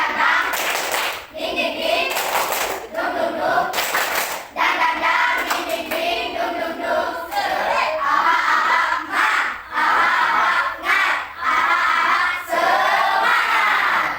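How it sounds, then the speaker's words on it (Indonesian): Classroom of students performing a rhythmic spirit clap chant, bursts of loud unison clapping in patterned beats separated by short pauses, with shouted group voices mixed in, close and energetic. "Mulai, tepuk semangat."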